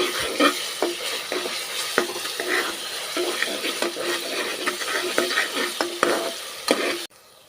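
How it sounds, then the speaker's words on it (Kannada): Ginger garlic paste fries with a steady sizzle while a spoon scrapes and stirs through it in repeated close strokes, alone with no voices, stopping abruptly near the end. "ಹಸಿ ವಾಸನೆ ಹೋಗಿ ಘಮ ಬರುತ್ತೆ, ಅಲ್ಲಿವರೆಗೂ ಫ್ರೈ ಮಾಡಬೇಕು"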